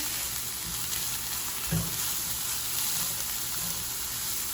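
Ground pork with crushed red pepper fries in a pan under a steady, bright sizzle, with one soft thud of stirring partway through and no voices.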